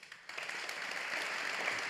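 Faint applause from a conference audience for panelists at a shipowners forum in Norway, a soft, steady patter of clapping that builds slightly after a quiet start.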